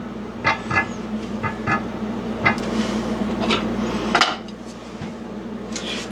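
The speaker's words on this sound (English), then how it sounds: "We're going to bring in one of our saute pans." A metal saute pan clanks and scrapes against a hard surface, several knocks and rattles over a steady low hum.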